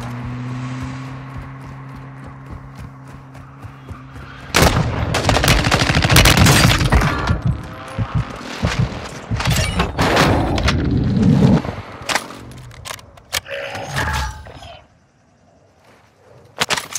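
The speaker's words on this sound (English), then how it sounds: "Hostile airstrike incoming." Airstrike explosions and gunfire in Call of Duty Warzone 2.0 erupt after a steady engine drone, with dense loud booms and shots for several seconds before dying away to near silence.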